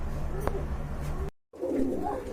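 Pigeons cooing in a loft kept for sale, including racing birds, with soft low coos and faint fluttering close by, broken by a brief gap of silence before more rustling and cooing.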